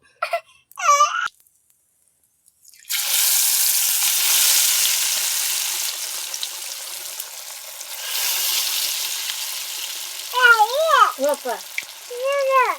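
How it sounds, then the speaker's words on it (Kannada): Oil heating in a pan before kebab frying gives a steady, moderately loud hiss and crackle that swells and eases, with brief wailing, crying-like voice sounds at the start and near the end. "ಎಣ್ಣೆ ಕಾಯಕ್ಕೆ ಹಾಕಿದನು ಕಾದೈತಿ ಕಾಯತೈತಿ"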